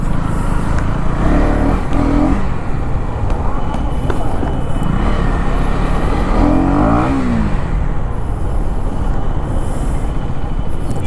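A car engine drones steadily at high RPM while coasting without braking, a constant hum on a busy road with passing traffic and occasional brake hiss and other vehicles around it.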